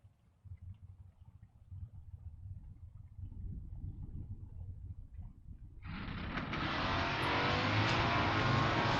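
Drag racing cars, a big Mopar Coronet and a Camaro, launch on a drag strip: a low engine rumble builds, then a loud, broadband roar of engines at full throttle fills the last few seconds, close and steady.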